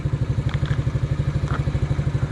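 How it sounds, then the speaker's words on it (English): A Yamaha 80cc quad's small engine idles slightly high, a close, steady rapid putter with an even pulsing rhythm and faint clatter, with no voices over it. "Sitting here idling. Sounds like she's idling a little high"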